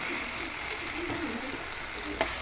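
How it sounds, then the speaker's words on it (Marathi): Stuffed brinjals sautéing in a pan of prepared masala, a steady low sizzle running throughout with a faint stir and one brief clink near the end. "ते वांगे आपण जो मसाला रेडी केला त्यामध्ये सोडले आणि छानपैकी परतून घेतले"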